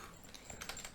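Rapid clicky typing on a computer keyboard during a live gaming stream, close and steady, with a few louder keystrokes standing out and no talk.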